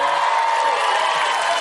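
A studio audience clapping and cheering, a dense, continuous wash of applause and crowd noise, loud and close for a brief moment with no distinct speech.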